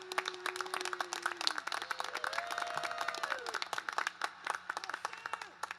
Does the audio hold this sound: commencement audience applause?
yes